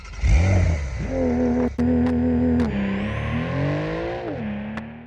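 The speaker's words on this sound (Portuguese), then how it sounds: "sentir um ronco dos motores de um carro a combustão" A combustion-engine car revs alone and close: a loud rising roar, a brief cut, then several steady climbing and falling engine pulls with sharp clicks between them.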